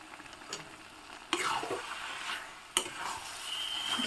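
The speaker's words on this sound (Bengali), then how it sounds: "এখন আমি এর মধ্যে দিয়ে দিচ্ছি ঘি।" Ghee sizzles in a hot pan holding a vegetarian dish, making a steady crackling hiss with two sharp clinks of a utensil against the pan. No voices are heard.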